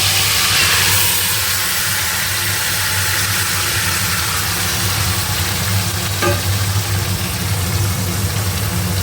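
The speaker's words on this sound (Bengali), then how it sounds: "এবার এই আলুর মধ্যেই ম্যারিনেট করা চিকেনটা দিয়ে দেবে" Marinated chicken is added to potatoes already frying in a pan, and a loud, dense, continuous sizzle fills the kitchen, holding steady from start to finish with a faint low hum underneath.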